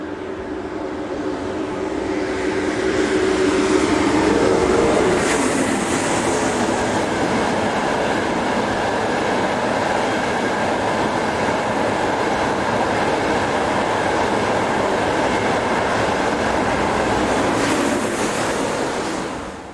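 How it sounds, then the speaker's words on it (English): A northbound Eurostar train on a Roma to Milano service rushes past a parked shunter, a steady broad roar of wheels and air that swells, holds for many seconds and fades at the end. "a Eurostar train heads north past shunter 2141090 on a service from Roma to Milano"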